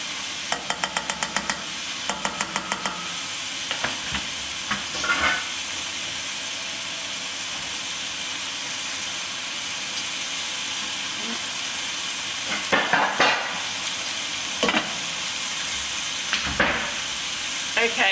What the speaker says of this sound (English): so while I've got that one boiling